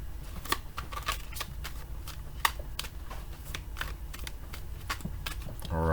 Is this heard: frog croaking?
no